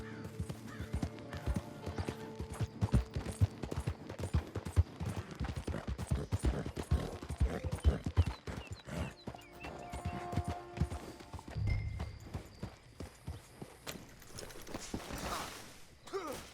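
Horse hooves clattering at a gallop in Red Dead Redemption 2 online, dense rhythmic clip-clop with a heavy landing thump after a jump, mixed with game effects and a brief whinny, loud and continuous.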